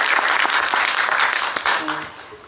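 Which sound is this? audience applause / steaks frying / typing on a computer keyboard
audience applause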